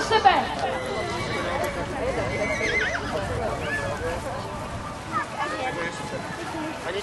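Horse whinnying and hooves clip-clopping at an outdoor event, heard under steady talk and crowd chatter, with a neigh near the start and hoof sounds through the clip.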